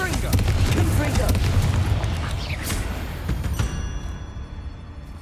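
Confringo explosive fire spells go off in Hogwarts Legacy combat, with a run of booming blasts and crackling bursts over a dense, noisy game soundtrack while a voice talks.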